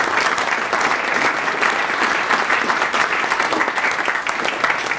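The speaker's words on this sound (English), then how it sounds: "So just a quick round of applause for them." A brisk round of applause from an audience at an awards-style session, many hands clapping densely and steadily at close range, loud and continuous throughout with no speech on top.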